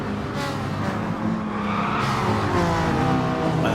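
Race cars collide at a braking point in the GT Sport racing game, tires squealing and skidding over steady, loud engine roar with no talking.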